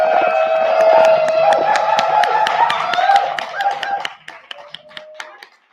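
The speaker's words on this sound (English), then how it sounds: "I know you guys are already clapping, but please give it up for Miss Angela Polite." An audience claps for a guest on a Black news talk show, dense applause with sharp individual claps and a held musical tone beneath, thinning to scattered slaps near the end.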